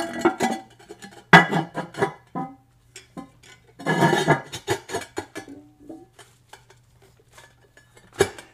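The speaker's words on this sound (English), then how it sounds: "Let's see if I can put that lid on top of this tank right here" A ceramic American Standard Colony 3 toilet tank lid is set onto the tank, giving several sharp clinks and scraping knocks spread across the moment, close by with little else around.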